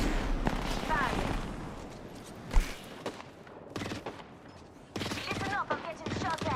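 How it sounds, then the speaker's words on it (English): Gunfire in the video game Final Fantasy XVI: bursts of close automatic shots in clusters with pauses between, mixed with game effects and some speech. "Listen up, I'm getting shot at."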